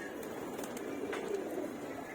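Pigeons at a sky pigeon loft give soft, continuous cooing over a steady murmur of birds, moderately close and without talk.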